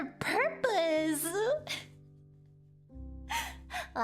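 A sharp gasp rises from a voice, then gives way to a longer drawn, pitched vocal exclamation. After a short quiet stretch, softer voiced sounds return near the end.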